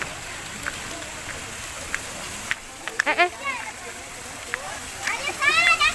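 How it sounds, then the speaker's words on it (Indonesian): Rain falls in a pine forest at a hillside river park, a steady soft hiss of drops with brief chirps and faint distant voices scattered through it. "Hujan, guys."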